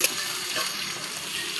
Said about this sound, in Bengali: এবার আলুটা আর একটুখানি ভাজা হয়ে গেলেই তুলে নেব।